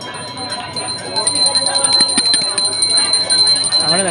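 A bell rung at a sorceress's shrine during a black magic leaf ritual, steady metallic ringing sustained through the clip amid a busy crowd, with people talking underneath.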